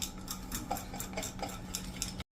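Batter with baking soda and a spoon of oil is stirred and scraped in a bowl for Surat-style potato puri, with steady clinking and scraping throughout before the sound cuts off abruptly.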